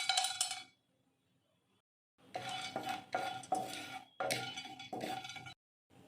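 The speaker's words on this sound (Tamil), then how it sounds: "ஸ்டவ்வை லோ ஃப்ளேம்லேயே வச்சுட்டு பெருங்காயத்தை ஆட் பண்ணி ட்ரை ரோஸ்ட் பண்ணிக்கலாம்." Asafoetida being dry roasted in a pan over a low flame for tomato pickle, heard as quick bursts of metallic stirring and scraping with short silent gaps, close and clear.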